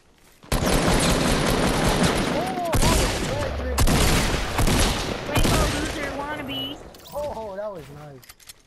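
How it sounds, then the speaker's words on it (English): Rapid bursts of video game gunfire crackle densely and loudly for most of the stretch, with voices talking over the shooting. "Someone else is shooting at us."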